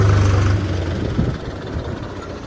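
A tractor loaded with gravel idles at a gravel plant near a railway station, a steady low diesel rumble with a slight throb, close and continuous with no talk.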